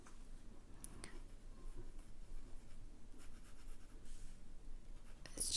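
A Pilot Kakuno fountain pen nib writing on paper, a soft, close scratching with a few faint taps, quiet and steady with no talk.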